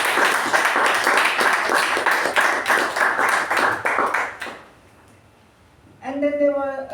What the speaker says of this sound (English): A big round of applause for Toastmaster Shuba